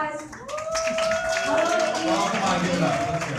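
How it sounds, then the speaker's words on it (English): Audience applause at a 2016 history convention press event: a burst of clapping from a crowd, mixed with voices and cheers that carry over the clapping. "Give them a round of applause."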